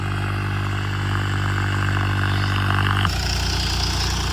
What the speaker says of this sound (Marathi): बारका ट्रॅक्टर आणलाय